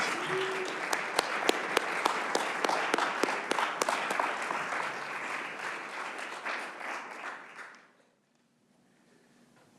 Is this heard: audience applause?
yes